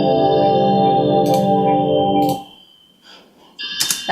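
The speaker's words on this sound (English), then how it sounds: "I think I've got like a sparkly noise as well." Sparkly Spectrasonics synth patch with a sustained, shimmering harmonic tone and bright glittering flourishes, fading to quieter high sparkles before a final bright burst; no talking.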